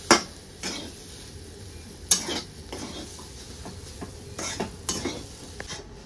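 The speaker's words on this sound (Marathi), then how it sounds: "बारीक गॅसवरच आपल्याला हे मिक्स करायचं आहे।" A spoon scrapes and stirs a powdered poha mixture in a pan over a low flame, making intermittent scratchy strokes and light metallic clinks against a soft background hiss.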